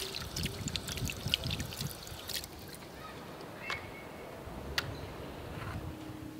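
Cleaned razor clams are rinsed under running water, with splashing and trickling in the first couple of seconds, then fainter dribbles and a few sharp taps as the flow eases.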